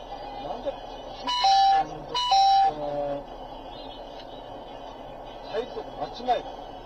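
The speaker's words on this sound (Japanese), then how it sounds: "これさっきからブザー鳴ってるのはね、車線逸脱のブザーです。" Lane departure warning buzzer inside a Toyota Allion sedan on a long drive, sounding as two loud sustained tonal bursts in quick succession, followed later by fainter short beeps, with quiet cabin road noise underneath.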